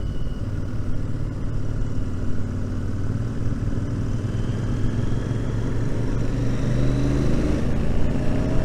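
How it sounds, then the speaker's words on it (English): A Royal Enfield Interceptor 650 motorcycle engine rumbles steadily with a deep exhaust note from shotgun-style exhausts, holding a low throaty drone throughout with slight rises in intensity near the end. "those exhausts from the shotgun, they do sound well."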